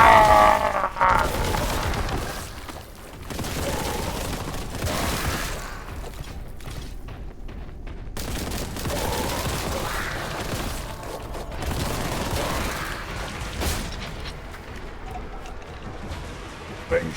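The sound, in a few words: heavy bolter gunfire in the video game Warhammer 40k Boltgun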